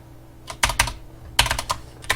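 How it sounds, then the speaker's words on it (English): Keys clatter on a computer keyboard in two short bursts of quick taps, close and crisp, with no voices. "I'm going to type one out like this"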